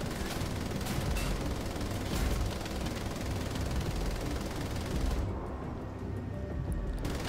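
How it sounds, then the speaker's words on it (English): Explosions in the video game Wolfenstein: The Old Blood rumble continuously and fairly quietly, with a few heavier blasts standing out from the constant din. "Lots of explosions."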